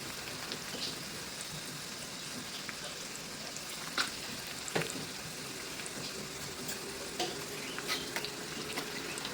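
Green chillies frying in a hot oil tempering for Vidarbha-style khichdi, giving a steady, soft crackling sizzle throughout with occasional sharper pops and light utensil ticks, no voices.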